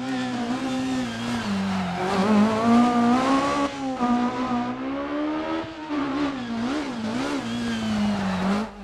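Rally car on a special stage of the Rally of Germany accelerates hard, its engine rising and falling through gear changes in a loud, close, continuous roar with no talk.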